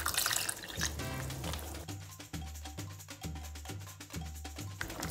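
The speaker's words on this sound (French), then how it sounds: "On rajoute le lait." Milk is poured into mashed potatoes for hachis parmentier, a close, soft liquid splash and trickle followed by a steady rhythmic tapping or stirring pattern.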